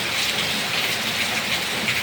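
A small waterfall spilling down a mountainside in forested hills of Chaiyaphum, Thailand, giving a steady, even rush of water that fills the whole clip with no pauses.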